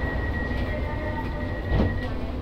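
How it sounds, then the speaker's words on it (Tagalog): An LRT-1 light rail train pulls out of the station, a loud close rumble of wheels and motors with a steady whine, swelling briefly near the end. "This train is ready to leave."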